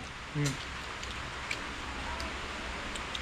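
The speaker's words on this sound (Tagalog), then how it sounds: "Kung sana matuloy no kasi may ulan." Rain falls outdoors as a steady soft hiss with scattered drip ticks, plus one brief louder knock near the start; no one talks.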